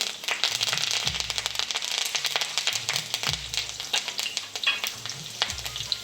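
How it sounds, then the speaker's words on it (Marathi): Curry leaves and garlic crackle in hot oil during a tempering for a mixed Bhogi vegetable dish, a steady dense sizzle with sharp pops running throughout, close and fairly loud, along with a few low knocks of a spoon against the pan. "हे झाल्यावर लगेच त्यावर आपण आता कढीपत्ता टाकून घेऊ"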